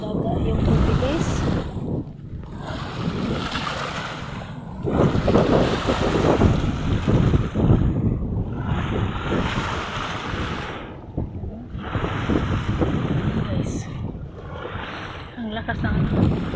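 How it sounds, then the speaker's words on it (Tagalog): Heavy waves crash and rumble in repeated surges, separated by short dips, with strong wind rushing over the microphone throughout. "Malakas ang alon."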